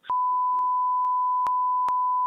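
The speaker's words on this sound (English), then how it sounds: "Should we beep? I'll leave a voicemail." A steady electronic voicemail tone rings continuously with a few brief clicks, and a faint voice murmurs at the start.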